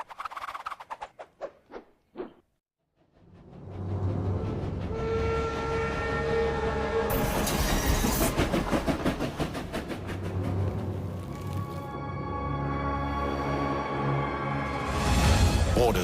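Armored train from the Last Train Home trailer in a heavy, sustained rumble with clattering wheels and blaring horn tones, loud and close, following a few sharp percussive hits and a brief silence.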